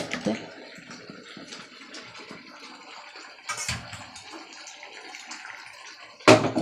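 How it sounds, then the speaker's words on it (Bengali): Water poured into a cooking pot in a home kitchen, a soft running splash with a louder gush partway through and another near the end, close by, with a few quiet knocks between pours. "আর একটু জল দেবো"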